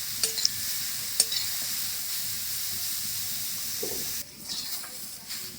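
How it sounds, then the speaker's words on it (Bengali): Grated carrots fry in ghee while being stirred, a soft continuous sizzle broken by scraping stirs and a couple of light clinks, with a louder shuffling burst near the end. "গাজরটা আমি এক থেকে দুই মিনিট কিন্তু ভালো করে নাড়াচাড়া করে ঘিয়ের সঙ্গে ভেজে নিয়েছি"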